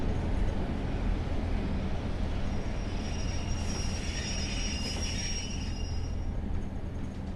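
A Pacer diesel train in the Train Sim game pulls into Coryton station near Cardiff, with a steady low engine and wheel rumble and a thin high whine that rises and fades midway.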